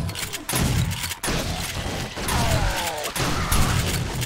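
Video game gunfire in 7 Days to Die during a zombie horde night: dense bursts of shots with booming impacts and mechanical clatter, loud and close, running almost continuously with brief gaps.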